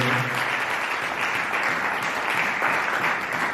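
A church congregation applauding the Lord, dense sustained clapping from many people filling the room at an even, steady level throughout.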